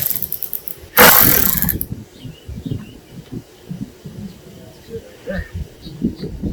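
A ratchet wrench loosens headlight bolts on a 2006 Ford F-250, giving a short, loud burst of clicking up close, followed by quieter handling noises and faint background sounds.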